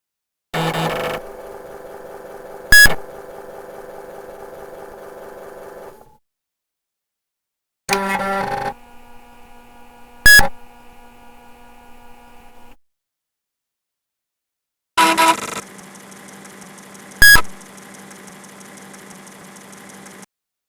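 An emulated 386 PC starting up in the 86Box emulator plays three separate start-up bursts. Each is a steady humming drone opened by a sharp click, with short silences between.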